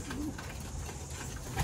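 Racing pigeons cooing softly at a loft before a 30 km toss, a faint low murmur with little else around it.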